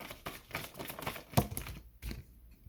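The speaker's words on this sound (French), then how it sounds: "On va tirer une autre carte." A tarot card is drawn and handled, giving quick papery clicks and rustles in an uneven run, then a sharper snap near the middle followed by a short quieter stretch and one last soft flick.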